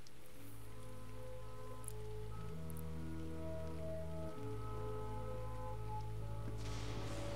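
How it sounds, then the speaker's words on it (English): Rain falls on a rainy night in a video game, a steady soft hiss spread across the whole stretch beneath sustained droning tones that shift in pitch a few times. "Oh, it's on a rainy night."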